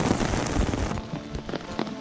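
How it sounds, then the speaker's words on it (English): Rain falling steadily during a thunderstorm while backpacking in the Great Smoky Mountains, a dense close hiss of drops pattering on surfaces, with no voices. "the rain's getting a little lighter"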